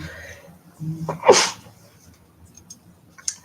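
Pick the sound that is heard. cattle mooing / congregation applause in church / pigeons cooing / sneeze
sneeze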